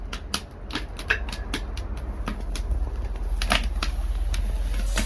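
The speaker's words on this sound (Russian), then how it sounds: "Мы начинаем жарить мясо." Lamb with tail fat sizzling in a hot pan with sharp pops and crackles over a steady hiss, close by, the sizzle building slightly.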